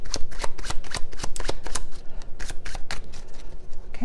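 Tarot cards shuffled by hand, a rapid run of crisp riffling flicks and taps, close and fairly loud, with no talking.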